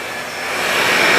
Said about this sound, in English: This is the Shark that you need to get. And the vacuum that you need.